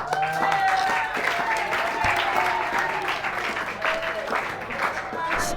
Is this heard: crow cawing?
no